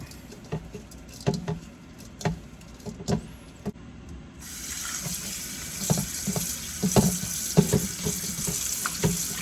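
Tap water runs into a sink while food thaws from frozen and is washed, a steady patter that grows fuller halfway through, broken by scattered knocks and clatter close by.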